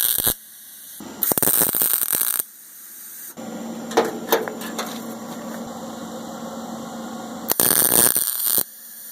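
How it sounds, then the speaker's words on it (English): Plug welds being laid on a car door patch panel: short bursts of harsh buzzing crackle from the welder, separated by quiet gaps with a faint background hum. "Now I'm going to do all the plug welds on the bottom and the sides"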